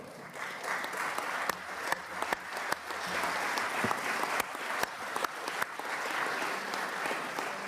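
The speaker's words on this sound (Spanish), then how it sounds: "mediante un aplauso para don Nicanor Parra" Applause in the Chilean Chamber of Deputies honoring Nicanor Parra, a sustained clatter of many hands in a large chamber with sharp louder claps and knocks popping out of the steady roar.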